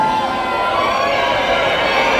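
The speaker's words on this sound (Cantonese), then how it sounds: "不如我哋用我哋最大嘅歡呼聲，我哋嘅尖叫聲，請我哋今日最重要嘅主角出場" An audience at a Hong Kong press conference for a concert cheers and screams in welcome, a dense, steady roar of crowd noise throughout.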